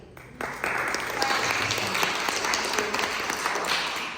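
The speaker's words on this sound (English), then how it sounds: "you please give yourselves a round of applause" A church congregation applauds itself in a room, with a quiet start before steady, full clapping swells in and holds for several seconds, a few louder claps standing out.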